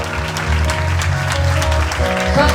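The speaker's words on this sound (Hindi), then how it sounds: "सारे बजाते रहें ताली" A church congregation at a Sunday service claps together in a continuous, lively patter, loud and close, with music tones sounding underneath.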